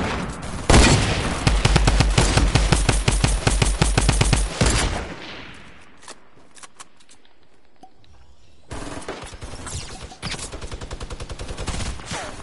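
Loud rapid automatic gunfire in a video game, dense fast bursts of shots for several seconds, a quieter lull, then another sustained volley of rapid fire.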